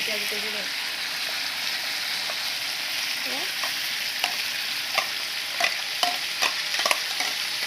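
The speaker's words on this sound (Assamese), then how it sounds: "ইয়াতে আমি এতিয়া কি কৰিম, পিচি লোৱা এই মছলাখিনি ইয়াতে ঢালি দিম।" Ground spice paste poured into a pot of meat and stirred, a steady hiss of frying under repeated scraping strokes that grow sharper and more frequent toward the end.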